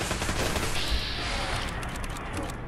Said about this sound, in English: Who is shooting us like that?